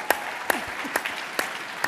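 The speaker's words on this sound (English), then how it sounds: "Give a big round of applause for Open Door." Audience at a real estate panel session applauds, a thin spread of clapping with a few sharper hand claps standing out at regular intervals, fairly quiet and brief.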